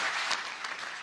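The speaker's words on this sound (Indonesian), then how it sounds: "Tepuk tangan buat 3 finalis yang luar biasa." Dense, steady clapping from an audience cheering three finalists at a motivational comedy event, a continuous wash of applause throughout.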